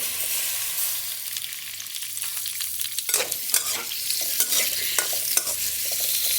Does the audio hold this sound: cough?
no